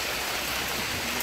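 Heavy rain pours down steadily on an outdoor exploration trek, a dense, continuous hiss of drops close by with no voices.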